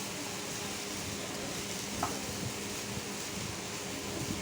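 Grated coconut and dried chillies roast over high flame in a pan, giving a steady, even sizzle with a faint scrape of stirring and no voices.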